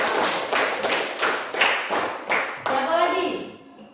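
Pupils in a classroom give a round of hand clapping, dense and rhythmic in several bursts, with voices rising over the claps near the end.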